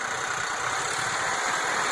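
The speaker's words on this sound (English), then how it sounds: "This tractor, the motor was rebuilt over the winter." A rebuilt Ford tractor engine runs at a steady idle, a continuous close mechanical drone with an even rumble and no voices.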